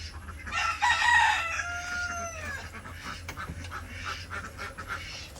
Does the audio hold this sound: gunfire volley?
no